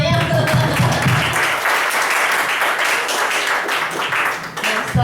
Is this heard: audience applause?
yes